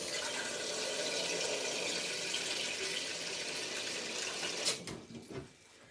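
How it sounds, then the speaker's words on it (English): A kitchen tap runs water into a pot for boiling, part of cooking Nigerian plantain porridge; a steady close splash and hiss that carries on for several seconds before it breaks up and fades as the flow stops. "Water is going to be boiled."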